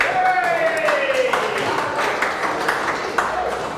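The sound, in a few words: audience applause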